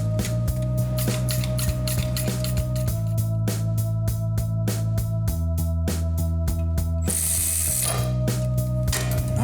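A hand ratchet driving screws to bolt a flexplate to an engine crankshaft during a transmission install, steady rapid clicking close to the microphone with a brief hissing burst near the end, no speech.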